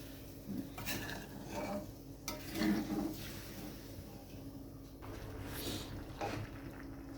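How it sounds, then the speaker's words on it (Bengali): Cauliflower and other vegetables being stirred in a pot with water for an egg and cauliflower curry: soft clinks and scrapes of a spoon against the pot with a faint wet sizzle, close and intermittent. "জলটা দিয়ে আবারও ভালোভাবে সবজিগুলো একটু নেড়ে নিলাম"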